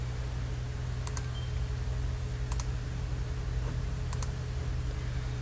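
Three sharp, faint mouse clicks, each a quick double tick, spaced about one and a half seconds apart over a steady hiss while navigating an interactive whiteboard chart on a computer.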